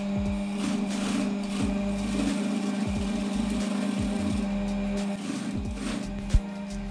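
A sewing machine stitches a knit fabric seam with a half-inch allowance, making a steady, quiet mechanical hum with regular needle clicks at close range, and no talking.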